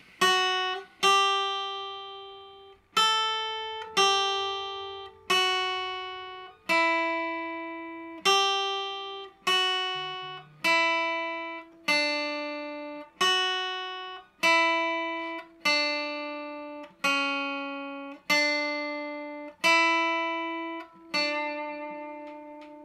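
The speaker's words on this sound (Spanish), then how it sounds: "Esa parte lento suena así." Slow, bright plucked requinto guitar notes ring out one at a time in an unhurried melodic line, each note decaying before the next, with no voices.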